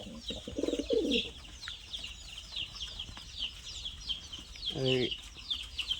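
Two male fancy pigeons coo in a backyard loft, a low burbling call early and another near the end, over steady chirping of other birds in the background.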